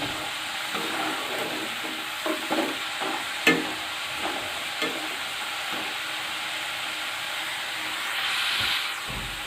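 A steady, hissing sizzle of French fries frying in hot oil, with occasional soft stirring scrapes and pops, fairly close and unbroken.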